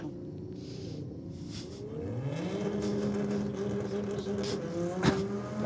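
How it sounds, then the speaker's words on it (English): Nissan R35 GTR launching at a drag race with a bit of wheelspin, a rising engine note climbing as the car pulls away, moderately loud at a distance over crowd ambience. "Well, a bit of turn of the tyres there for the Skyline"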